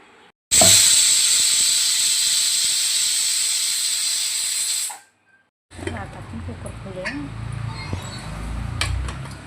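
A loud, steady hiss of steam venting from a pressure cooker cooking toor dal for several seconds, then it stops abruptly, followed by quieter kitchen clatter.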